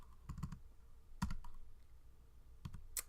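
Typing on a computer keyboard while coding in Swift: a few scattered clusters of soft key clicks with pauses between them, close and fairly quiet, with no voices.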